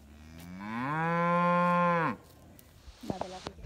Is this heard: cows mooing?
yes